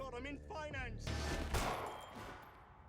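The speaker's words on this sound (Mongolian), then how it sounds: "Eva түүнийг шууд буудчихв" A gunshot rings out in a film scene, a sharp sudden blast followed by a second crack half a second later, fading into a reverberant tail after a brief line of dialogue.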